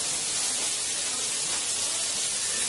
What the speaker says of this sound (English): she's bringing that to a nice little sizzle